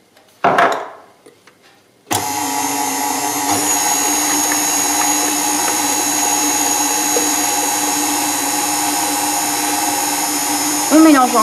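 An electric hand mixer whirs steadily in a bowl of gluten-free pancake batter, a loud continuous motor drone after a brief burst, with a voice briefly speaking over it.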